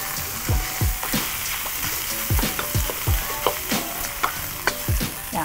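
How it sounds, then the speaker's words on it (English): Onions fry in a hot pan for a beef noodle stir fry, a steady loud sizzle broken by regular scraping knocks of a spatula as they are tossed, with no voices. "So now I'm going to go in with some onions."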